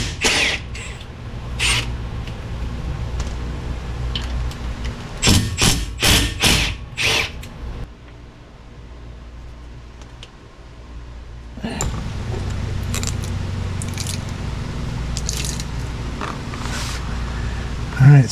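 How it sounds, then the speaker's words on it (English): A car differential cover is opened with tools, producing close metallic clicks, knocks and a quick cluster of sharp clanks, followed by quieter handling noises. "what I need to do now is open up the differential"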